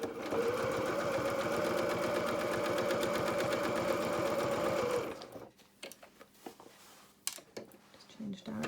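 A sewing machine stitches felt flower petals in a fast, steady mechanical run for about five seconds, then stops, leaving quiet fabric handling, small clicks and a brief voice.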